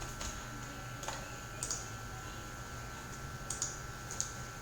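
Fingers type on a computer keyboard, producing a few sparse, quiet key clicks spaced irregularly over a soft background hiss.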